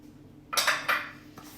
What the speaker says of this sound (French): je vais mélanger tout les ingrédients dans un saladier